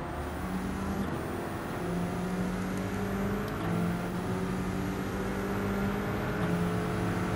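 A Corvette race car engine in Gran Turismo 7 drones at steady, high revs with a few shifts in pitch. It stays loud and close throughout with no talk.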